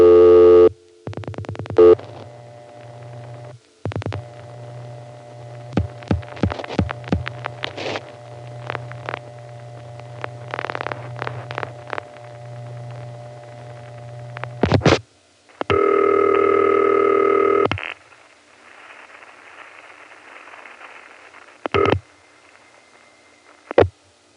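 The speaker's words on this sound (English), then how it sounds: "If you listen to the pulsing after I dial the number, which on this call I dial all at once, you can probably guess how the call is going through." A 1975 telephone call routed through crossbar switching: the number is dialed all at once, followed by steady tones, rapid clicking call-progress pulses, and a loud burst of signaling tone, with mechanical clicks between.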